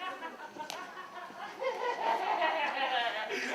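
A voice clucks and moans in a strained, warbling way, imitating an ailing hen, brief and fairly close.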